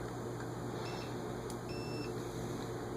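Faint high electronic beeps sound briefly a couple of times over a constant droning hum.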